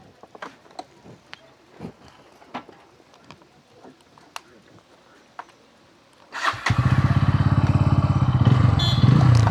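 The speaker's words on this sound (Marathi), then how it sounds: "आपल्या भावाची बाईक चालवतो आहे" Scattered clicks and handling noises, then a Bajaj Pulsar N160 motorcycle engine fires up and keeps running with a loud, steady, pulsing throb.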